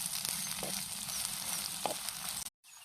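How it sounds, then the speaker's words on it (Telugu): Chopped green chilies and onions fry in hot oil in a clay pot, a steady close sizzle with a couple of brief stirring scrapes and a short break near the end. "కట్ చేసుకున్న పచ్చిమిర్చి, ఉల్లిపాయలు వేద్దామండి. ఇవి బాగా వేగనిద్దామండి."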